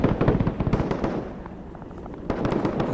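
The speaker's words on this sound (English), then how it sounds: "They still seem to be mortaring the base" Mortar fire explosions in Arma 3, heard as a busy stream of rapid pops and bursts, loud at first, easing to a quieter stretch, then picking up again near the end.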